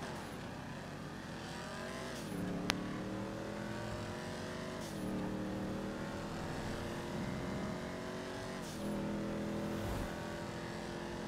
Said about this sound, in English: Man, I love this fucking car